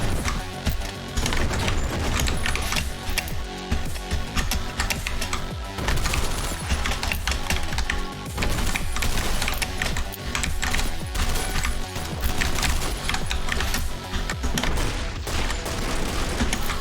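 Rapid computer keyboard typing during a speedrun of the video game OTXO, dense continuous clacking of keys at a fast rhythm for the whole stretch, close and fairly loud, with no talking.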